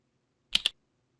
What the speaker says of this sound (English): Hold down the left control key on your keyboard and press the enter key on the number pad to turn the